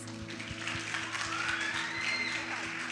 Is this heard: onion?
no